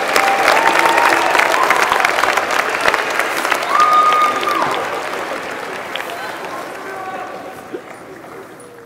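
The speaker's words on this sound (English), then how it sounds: "Please give them a round of applause." Sustained applause from a large crowd at a university winter commencement ceremony, dense clapping that gradually thins and quiets toward the end, with a few faint voices underneath.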